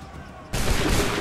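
A sudden massed musket volley in Assassin's Creed 3, a single loud burst of many shots fired together that cuts in sharply and crackles on after a quieter lead-in.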